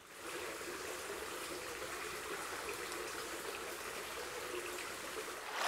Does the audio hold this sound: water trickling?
yes